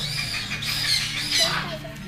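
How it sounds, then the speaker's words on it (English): A baby African grey parrot of the Congo type gives harsh, close squawks and chirpy calls in a short, loud burst. "Do you like the little birdie there?"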